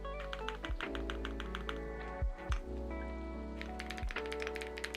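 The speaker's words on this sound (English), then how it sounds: "Now this keyboard might sound a little familiar." Fingers type on a computer keyboard at a desk during a long drawing and work session, making quick, light clicking keystrokes in irregular bursts over a steady background hum.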